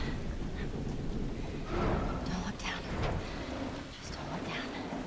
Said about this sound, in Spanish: Qué bonito, lástima que esté lloviendo.